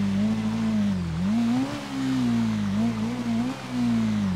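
A small motorbike engine in GTA V hums at a steady, close drone, its pitch rising and dipping slightly as the throttle shifts.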